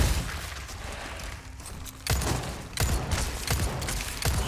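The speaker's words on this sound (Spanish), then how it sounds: "¿cuántos tiros necesita una arañita de mierda?" Several sharp, loud gunshots at a spider in Resident Evil 4 Remake burst out at irregular intervals, each with a short echoing tail over a low rumbling background.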